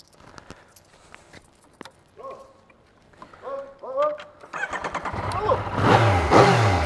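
A Yamaha MT-09 motorcycle engine starts and then revs up, its loudness building toward the end, with people talking around it on a street.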